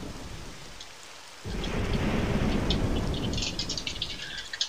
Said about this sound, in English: A summer storm was racing outside. Light rain pattered against the glass. The gentle noise punctuating the rumbles of coarse thunder.